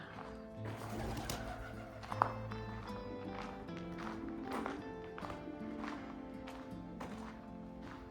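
Pigeons cooing inside an old Roman fort built on marshy ground: soft repeated coos and wing flutters at moderate distance, with light knocks and shuffling, fairly quiet.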